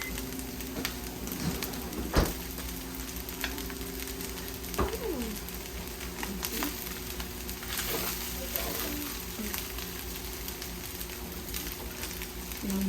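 Shrimp fried rice frying in a pan after sesame oil goes in, a steady close sizzle and crackle with a few sharper clicks of stirring scattered through.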